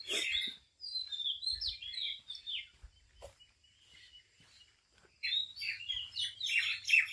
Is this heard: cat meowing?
no